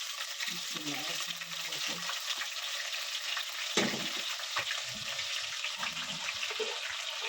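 Ginger garlic paste sizzles in a cooking pot for a lobia masala curry, a steady soft hiss with a few louder spatters and clatters, alone without talk.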